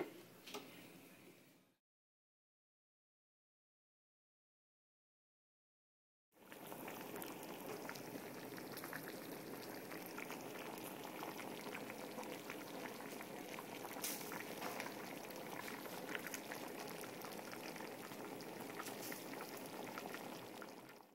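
Spanish-style rice with sausages boils in a pot, a steady close bubbling and crackling that fills the sound after a brief gap of silence near the start.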